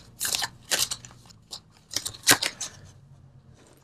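Tarot cards are pulled from a deck during a love reading, giving several quick papery rustles and snaps in uneven bursts. The sounds are close and crisp, with no speech over them.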